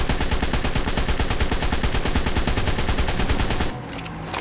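Rapid automatic rifle fire in a video game rattles in a dense continuous burst lasting several seconds, then cuts off abruptly, leaving a quieter tail.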